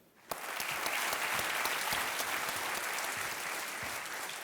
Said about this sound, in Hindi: Big hand for his mother.